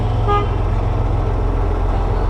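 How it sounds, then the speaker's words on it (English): A short horn toot sounds once near the start over a loud, steady idling engine rumble. "Oh, the early morning honk."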